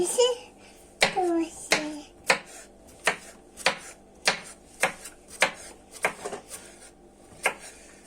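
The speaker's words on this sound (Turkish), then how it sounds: "Şimdi öncelikle biberleri doğramam gerekiyor." Knife chopping peppers on a cutting board for menemen, a series of sharp, evenly spaced thuds close by, with a voice briefly heard at the start.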